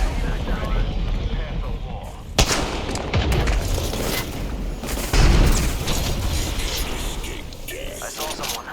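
Video game gunfire cracks out in sharp bursts and booms, several loud shots mixed with rattling automatic fire and mechanical noise, while a voice talks between them.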